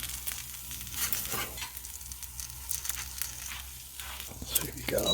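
Salmon fillets frying at a deer camp: a steady soft sizzle with faint crackles and light stirring, continuous throughout.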